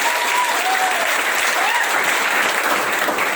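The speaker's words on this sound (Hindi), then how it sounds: "मैं चाहूंगा इनके लिए एक बार जोरदार ताली हो जाए" An audience gives loud, dense, continuous clapping for a plan presenter at a Mi Lifestyle NTC gathering in Boisar, filling the room without a break.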